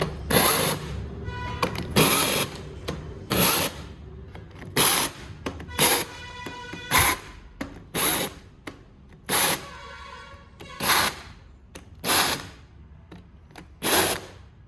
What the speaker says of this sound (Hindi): ये मैं नोमेटिक गन की सहायता से इनको टाइट करूँगा।